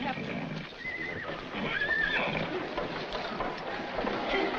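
Horses at a corral in a western film whinny over a busy outdoor background, a couple of thin neighs rising out of the noise, moderately distant, with people talking throughout.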